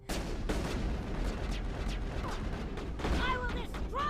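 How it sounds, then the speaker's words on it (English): Gunfire in the game Mass Effect, with sharp reports and bursts repeated across a busy combat mix that runs without a break throughout. "Don't you shoot Tally"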